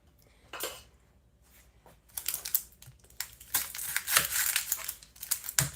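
Knife chops through an onion, cutting it in half on a board: a series of crisp, crunchy cuts and clatters, near and fairly loud, one early tap and then a dense cluster of cuts.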